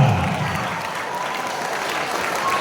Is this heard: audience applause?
yes